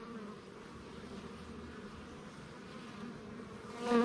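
Honey bees buzz steadily at an open hive during an inspection on a bee farm, a close, continuous drone that holds even throughout and swells slightly at the end, with no talking.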